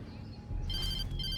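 A telephone rings in Alan Wake Remastered, its bright electronic trill sounding twice in quick succession over a low ambient rumble, fairly close and clear.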